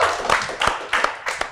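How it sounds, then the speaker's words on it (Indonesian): A studio audience at a comedy talk show claps, four short bursts of applause arriving in a fairly even rhythm, each fading quickly before the next. "tepuk tangan sekali buat Popon Kerok"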